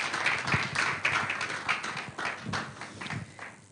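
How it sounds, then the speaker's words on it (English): Audience applause at a national conference in Nigeria, steady dense clapping from a crowd for a few seconds, fairly close and loud. "Another round of applause for him."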